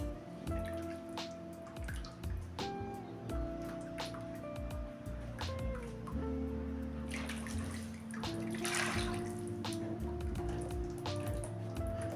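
Liquid plaster mix is poured into a mould, making a steady wet pouring and dripping sound over a continuous tonal background hum.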